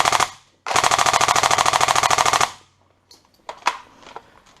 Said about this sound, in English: Now to full auto. I'll show you guys the blowback on full auto.